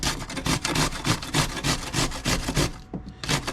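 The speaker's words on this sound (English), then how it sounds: "I'm thinking maybe cut that piece off and then just start grating everything else." A vegetable, likely cucumber for homemade tzatziki, is rubbed against a grater in a steady, rapid rasping rhythm of about four strokes per second, close and fairly loud, with a brief pause near the end.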